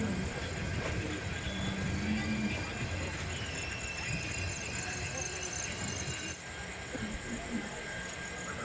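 The steady, heavy rumble and hiss of the Kanchan Kanya Express passenger train rolling into Bolpur Shantiniketan station, continuous and fairly close throughout.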